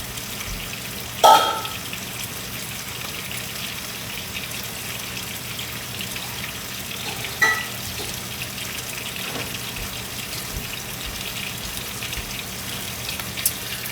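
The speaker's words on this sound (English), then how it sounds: "while that's frying up" Food fries in a covered pan on a stovetop over medium heat, a faint, steady sizzle with a couple of brief clinks, no voices.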